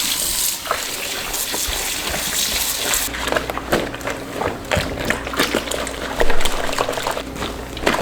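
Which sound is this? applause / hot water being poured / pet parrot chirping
hot water being poured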